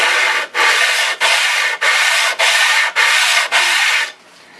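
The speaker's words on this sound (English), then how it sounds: "No matter how good of a job you do on your glue up, there's still a lot of sanding" Rhythmic sanding strokes rasp across a glued-up wooden cutting board, about seven even back-and-forth passes, loud and close, then stop.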